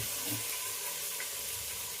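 Chopped onions and green chilies fry in hot oil in a pan, giving a steady, soft sizzle that holds evenly for a couple of seconds with no voices.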